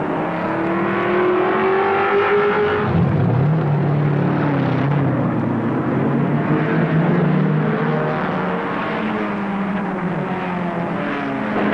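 Race cars at the 1974 Bathurst race roar steadily nearby, with engine tones rising and sweeping as they pass, forming a continuous loud wash of motor noise.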